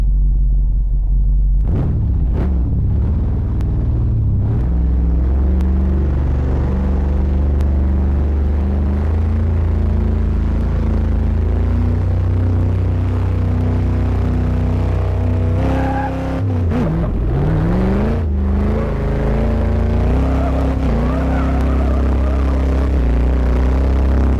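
A 1966 Ford Mustang fastback 2+2 engine pulls hard under acceleration, a loud, close, rumbling drone that climbs steadily in pitch and dips briefly once before rising again.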